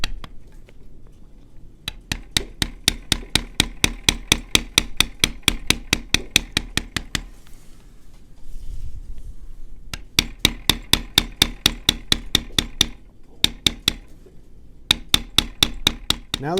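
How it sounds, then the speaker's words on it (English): A beveling tool is struck with a mallet while tooling a leather belt. Crisp, close taps repeat in rapid, steady runs, separated by brief pauses and a soft rubbing sound, with no talk. "bevel all the lines that are looking at that background space"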